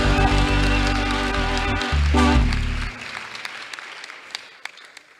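Church congregation clapping in praise of God, a keyboard chord sounding loudly at first, then the applause continuing as a softer, steady patter.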